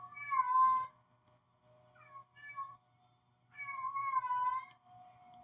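A female cat in heat yowling outdoors, three drawn-out wailing meows with pauses between them, heard clearly against a quiet background with a faint steady hum.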